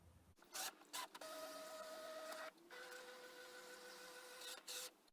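A Brother ScanNCut cutting machine scans a template, giving a steady mechanical whir with sustained motor tones, broken by short louder bursts and brief pauses, close and alone with no talk.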